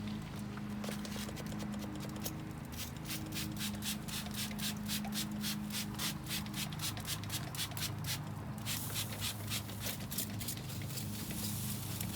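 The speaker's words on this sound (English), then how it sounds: "let's go spray these down here" A spray bottle spritzes BBQ ribs in a rapid train of short, hissing squirts that repeat steadily up close over a low background hum.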